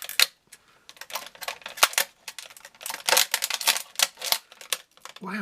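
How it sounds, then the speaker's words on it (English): Scissors snip through strong cable ties on He-Man Masters of the Universe Origins action figure packaging, a string of sharp, irregular clicks and cuts close by, with brief quiet gaps between bursts. "Let's get our scissors out, because we have, look at all cable ties and things in here"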